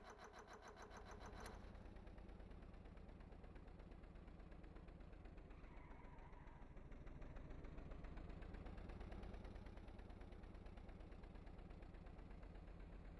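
A modular car engine in the Stormworks video game runs with a steady rapid rhythmic thrum, fairly quiet and continuous, rising slightly in intensity midway, with no talk over it.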